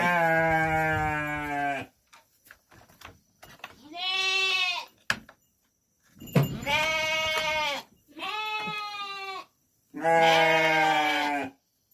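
Several loud goat bleats in a row, drawn-out and wavering, separated by short quiet gaps, close by.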